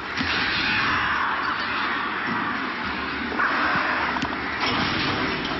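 A swarm of crows in the video game Alan Wake makes a dense, continuous wash of cawing and flapping noise, loud and steady throughout without speech.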